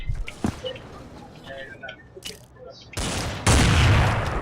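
Gunfire in Counter-Strike 2 on the Dust2 map during a ranked match: scattered shots and faint game sounds, then a loud sustained burst of rapid fire with booming impacts toward the end.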